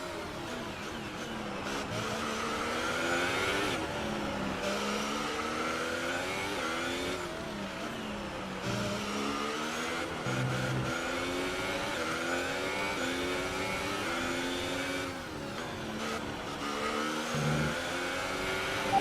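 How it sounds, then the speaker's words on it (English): A damaged F1 race car in a Singapore Grand Prix video game drones steadily, its engine note rising and dipping with repeated gear shifts, with no talking. "I try and bring my limping car home."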